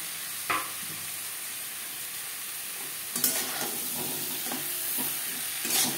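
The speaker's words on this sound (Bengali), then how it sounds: "মশলার সাথে আলু বেশ ভালো করে মিক্স করে দেবো।" Potatoes being stirred into an onion-tomato spice masala in a pan for a katla fish curry, with a steady sizzle and hiss throughout and a few scraping stirs of the spoon, close and fairly loud.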